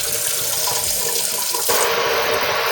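Water runs steadily from a kitchen faucet, a continuous broadband hiss that shifts slightly in tone partway through as the flow changes.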